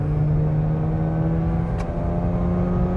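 A car's engine drones steadily from inside the cabin on a driving pass, a constant low hum with only slight rise in pitch, close and unbroken.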